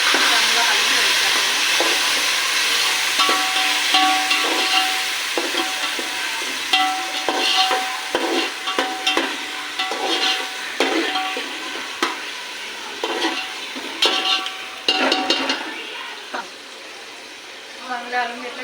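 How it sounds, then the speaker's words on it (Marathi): Chopped tomatoes are stirred into browned onions frying in oil, giving a crackling sizzle with repeated spatula scrapes and clatter that fades toward the end. "त्याच्यामध्ये मी टोमॅटो टाकून देते बारीक केलेले, चांगलं हलवून घ्यायचं"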